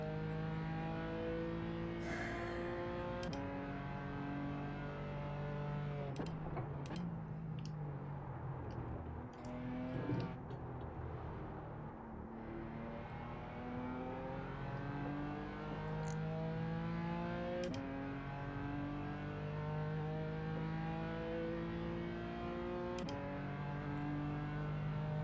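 LMP3 prototype race cars in the iRacing sim, engines droning continuously at high revs with layered harmonic whine from several cars, steady and loud throughout with brief shifts and passes.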